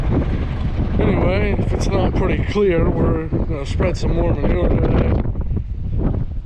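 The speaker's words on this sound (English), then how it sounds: "It's real windy out here" Strong wind buffeting a microphone outdoors on a farm, a constant low roaring rumble under someone talking close by.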